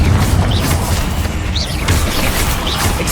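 Confringo blasting spell from Hogwarts Legacy going off as a loud, close boom, followed by rumbling blast noise and a few sharp crackling bursts with no talk over it.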